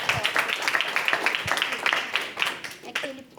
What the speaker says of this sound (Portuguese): Palmas para o Natan